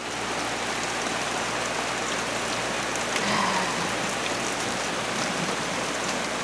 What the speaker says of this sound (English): It like started pouring, like thumping rain.